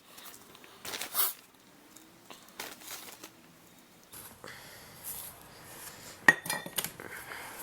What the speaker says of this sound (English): And use one of these convenient forks to mix it around.